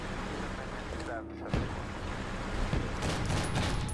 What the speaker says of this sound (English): There's some kind of autocannon.